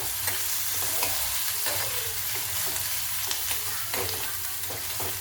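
Onion frying golden in a pan for a spicy black-chickpea usal, a loud continuous sizzle with intermittent stirring scrapes throughout.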